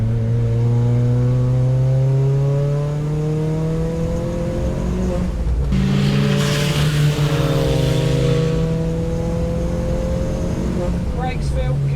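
A Ford Fiesta race car on a track shakedown drones loud and close from onboard, its engine holding a strong steady note with a brief dip at a gear change midway before pulling on.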